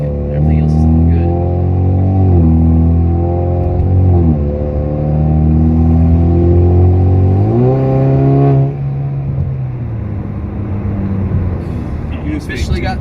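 A four-cylinder turbocharged Camaro running on E85 pulls hard under boost, its engine note droning loud and steady with rising pitch sweeps as it accelerates, then settling lower after an upshift.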